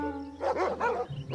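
Dogs bark in quick succession, two or three loud, close yaps in rapid rhythm over a low steady hum.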